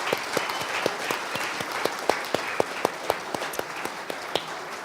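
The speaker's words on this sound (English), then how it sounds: "Y'all please give my family a big hand of applause" An audience at a hall of fame induction ceremony gives a sustained round of applause, a dense wash of clapping with individual sharp claps standing out steadily throughout.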